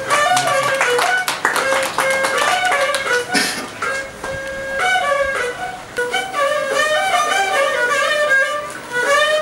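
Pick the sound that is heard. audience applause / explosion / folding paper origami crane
audience applause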